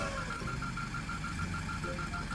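A racing rice harvester's engine in a Roblox driving game gives off a steady, rough mid-pitched drone with a faint rhythmic knock, running continuously at an even level.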